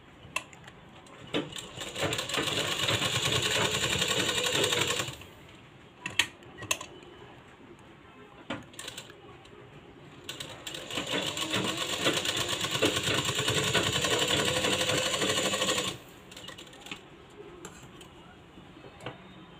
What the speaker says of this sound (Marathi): इथं आपण आता डबल शिलाई मारून घ्यायची आहे